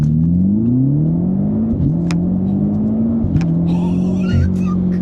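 A BMW F90 M5 accelerates at full throttle, its engine note climbing loud and close through rising, shifting tones with short breaks between gears.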